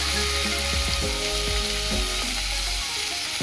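Vegetables sauté in a hot pan for a dal vegetable curry, a loud, steady sizzle with a few scraping stirs of the spoon near the start, continuous and close with nobody speaking.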